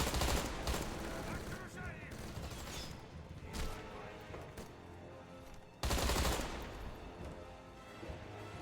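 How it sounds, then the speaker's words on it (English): Gunfire in the Deadfall Adventures game, dense loud bursts of rapid shots with heavier booming impacts near the start and again past the midpoint. "I was shooting that because, you know, usually red things blow up"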